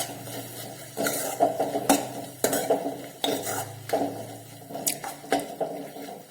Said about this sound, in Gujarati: અને સારી રીતે મિક્સ કરી લઈશું